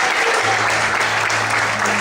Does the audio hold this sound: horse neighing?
no